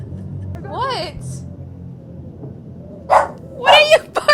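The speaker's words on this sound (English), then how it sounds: "What are you barking at?" A dog indoors, startled by a mask, gives a couple of sharp barks and yips, close by, with quieter whimpering sounds before them.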